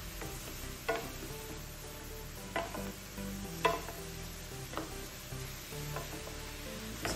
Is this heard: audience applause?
no